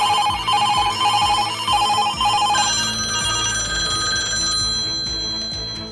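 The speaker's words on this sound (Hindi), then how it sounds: "जब मोबाइल का जमाना नहीं था तब अतीक अहमद के गुर्गे इसी तरह से फोन लगाकर धमकाते और वसूली करते थे।" An old landline telephone rings loudly in repeated trilling bursts with short gaps between them, then carries on in a steadier electronic tone near the end, with no voices.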